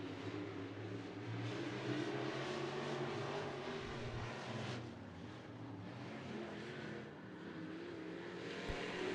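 Race cars run laps at Bakersfield Speedway during a heat race test and tune, a steady, fairly distant engine drone that holds throughout with slight swells as cars pass.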